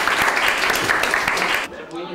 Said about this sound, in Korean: 자, 우리 멋지게 박수 한번 치고 갑시다.